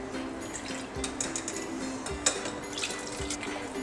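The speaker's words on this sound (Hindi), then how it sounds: "अब इसमें हम थोड़ा सा पानी डालेंगे, जो हमने पानी बचा के रखा हुआ था हम इसको इस मिक्सी के जार में डालेंगे।" Water is poured into a mixer jar while making dahi vada, a soft continuous trickle with small splashes and drips close by, and nobody talking.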